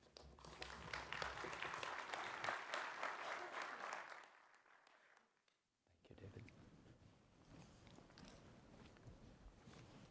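Steady applause from a conference audience welcoming a keynote speaker, dense clapping for about four seconds before fading out, then a quieter room murmur follows.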